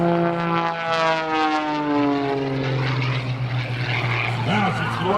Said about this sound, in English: she takes the airplane into a torque roll